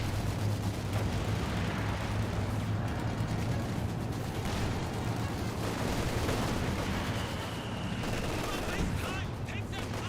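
Smoke barrage artillery in Company of Heroes 2 pounds away in a dense, continuous stream of loud blasts and rumbling fire that runs without a break through the battle.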